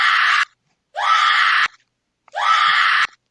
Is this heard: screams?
yes